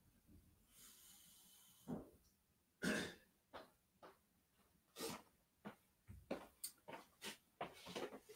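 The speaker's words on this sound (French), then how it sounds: "j'ai trop envie de... trop envie de tousser" A man repeatedly coughs and clears his throat, a series of short dry bursts spaced irregularly, close and fairly quiet, with some breathing between them and no talk.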